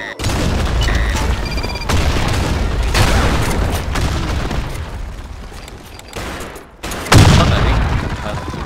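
Grenade blast and rapid gunfire in the Blackshot shooter during a clan war match, with repeated loud booms and bursts of shots across the stretch, a sharp explosion near the end, and game voice lines under the noise.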